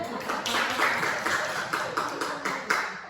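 A crowd claps together, a dense patter of hands with a few sharper accents, steady for about three seconds.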